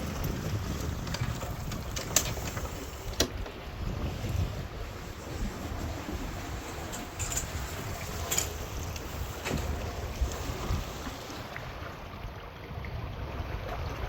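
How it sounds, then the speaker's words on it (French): Excess 14 catamaran under sail crossing the Bay of Biscay toward A Coruña: steady broadband rush of wind and water around the hull with microphone buffeting, broken by occasional faint knocks and creaks, no talking. "nous sommes à la voile"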